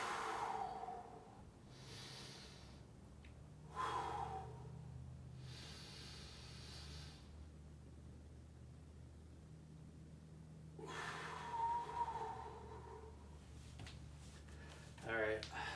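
A person taking sets of three breaths during a full-body workout, audible inhales and exhales in short bursts separated by quiet pauses, close and fairly faint.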